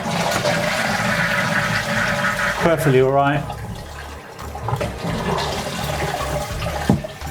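A repaired running toilet flushes with a surging rush of water, then the cistern refills with a steady hiss and trickle while someone talks over it.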